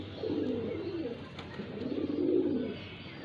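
Newly bought pigeons coo nearby in two soft, rolling low-pitched phrases, one after another against a quiet background with no talking.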